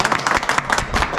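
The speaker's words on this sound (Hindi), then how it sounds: "एक बार ताली बजा दीजिए भैया के लिए।" Audience clapping for a contestant at a sweet-eating challenge, a short, loud, continuous burst of close applause from a small crowd.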